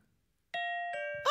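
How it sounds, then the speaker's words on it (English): A two-tone ding-dong doorbell chimes in a quiet room, two clear sustained notes ringing out one after the other, followed by a brief burst of other noise at the end. "Oh, it's a doorbell."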